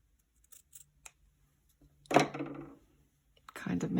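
Scissors make a single crisp snip through fabric while a square pillow with a band is sewn. Faint handling noises come before the cut, and soft sounds follow it.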